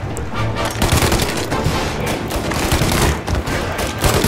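Dense gunfire in the Mafia Definitive Edition video game, a loud, continuous stream of rapid shots and bursts overlapping without a pause.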